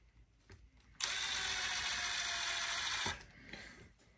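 A small electric driver spins for about two seconds, a high whining buzz as tiny screws go into a Traxxas X-Maxx rear bulkhead, with faint clicks and handling noises before and after.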